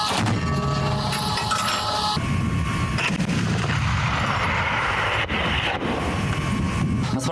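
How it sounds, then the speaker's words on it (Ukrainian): Loud, heavy cannon shots from an armored vehicle boom over a constant rumble of engine and wind, with a sharp blast near the middle standing out from the din. "Стрільба з пушки по мішені."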